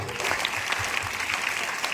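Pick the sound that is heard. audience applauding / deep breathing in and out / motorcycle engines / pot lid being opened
audience applauding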